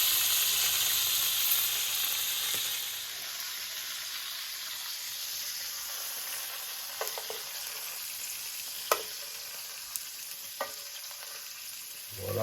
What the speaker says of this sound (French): Écoutez le chant de la saucisse qui rissole.